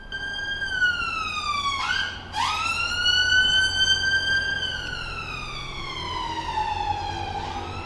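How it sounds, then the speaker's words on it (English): An emergency vehicle siren wails outside, a loud, continuous sweeping tone that rises and falls, briefly dipping then climbing again as it passes, heard alone without talk. "there's a fucking siren."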